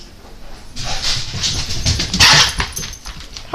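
A dog barks and whimpers close by in short, excited bursts that rise to a loud, sharp peak, then settle into softer whines.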